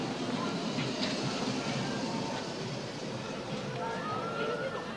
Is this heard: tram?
yes